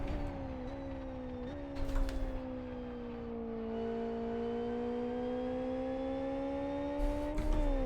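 Race car engine in the sim racing game Live for Speed, held under steady throttle with a sustained droning tone that climbs and dips through gear changes, loud and continuous with no talking.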